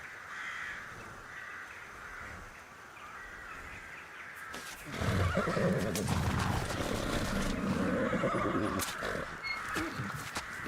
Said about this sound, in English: And the horses are nice.